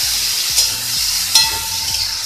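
Ground cumin, Kashmiri chilli and sugar frying in a pan, a loud close sizzle with a few quick spatula scrapes against the metal, no talking.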